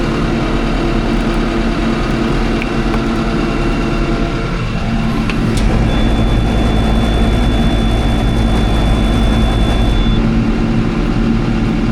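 A tractor engine runs loud and close, its heavy low drone rising slightly as the revs are pushed up, with a steady mechanical whine held over the middle stretch and no talking.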